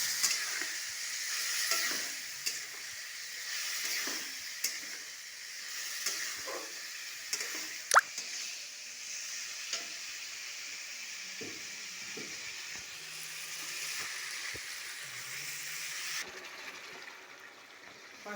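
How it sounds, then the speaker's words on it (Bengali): Spices with turmeric and a splash of water sizzle and hiss steadily in a pan, for lunch with prawns, with intermittent scraping and stirring knocks throughout and a brief sharper clank near the middle. "সামান্য পরিমাণে জল দিয়ে আমি এবার কষাবো"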